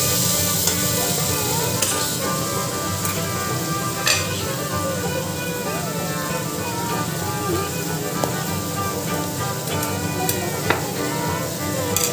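Bora fritters fry in a pan with a steady, dense sizzle and scattered sharp pops and spatters throughout, with no voices.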